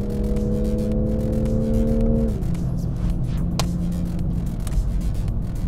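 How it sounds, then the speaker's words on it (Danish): A Toyota Supra driven at full throttle at Le Mans, its engine droning loud and close under acceleration, with a shift in pitch partway through as the revs drop and then pull on. "Okay, der bliver givet gas."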